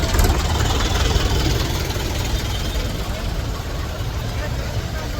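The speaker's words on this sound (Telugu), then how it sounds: "ఇదిగోండి ఇంకో ట్రాక్టర్ అయితే వచ్చింది" A heavy tractor engine chugs nearby with a loud, low rumble that eases slightly as it continues, steady throughout.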